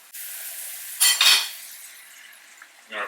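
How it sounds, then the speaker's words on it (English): Butter sizzles in a hot cast iron pan, a steady hiss flaring up sharply in two close bursts before settling back to a quieter crackle. "A lot of sizzling action with that butter."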